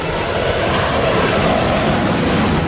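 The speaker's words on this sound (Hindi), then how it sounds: "यमुना एक्सप्रेसवे पर मिराज 2000 ने लो लैंडिंग की थी" A Mirage 2000 fighter jet making a low landing pass over the Yamuna Expressway, a loud, steady, close engine roar that fills the whole moment.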